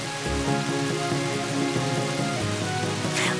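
Steady rain falls over a city in a continuous, even hiss, with sustained musical tones layered on top.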